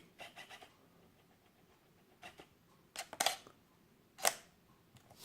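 Camera shutter clicks taken while testing an infrared flash setup, a few short sharp mechanical snaps standing out against faint background noise, with no talking.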